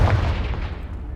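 The Confringo blasting spell in Hogwarts Legacy sets off a single booming explosion that opens loud with a deep low thump, then fades into a rumbling, crackling tail.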